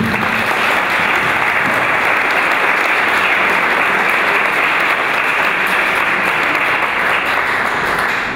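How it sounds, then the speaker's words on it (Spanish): Loud, sustained applause from an audience at a talk on volcanic risk management welcoming a geological risk speaker, a thick continuous roar of many hands clapping at an even level from start to finish. "un aplauso fuerte para nuestro ponente"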